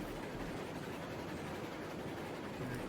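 A train rolls steadily along the tracks in the video game Railroads Online, a continuous low rumble with faint rhythmic wheel clatter, no voices.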